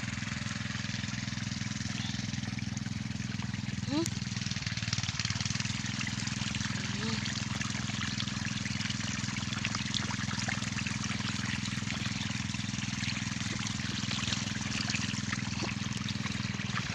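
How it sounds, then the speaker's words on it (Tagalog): A strong stream of river water gushing from a large PVC pipe onto a tobacco field on a farm, a steady loud rushing flow with a low engine-like hum underneath and a brief voice early on. "Ang laki yung PVC, oh, ang lakas ng tubig."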